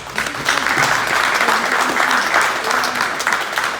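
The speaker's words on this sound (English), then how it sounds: "Let's give a round of applause for all the sponsors." Round of applause from an angling club crowd at a fishing competition briefing, close and lively clapping held throughout, with a faint low hum underneath.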